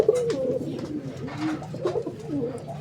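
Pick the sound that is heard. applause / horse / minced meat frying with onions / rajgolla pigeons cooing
rajgolla pigeons cooing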